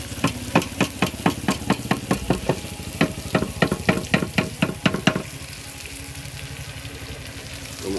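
Spice paste with onion and dried chilli frying in a pan for kosha chicken: a run of quick, evenly spaced scraping stir strokes over a steady sizzle for about five seconds, then a softer continuous fry alone.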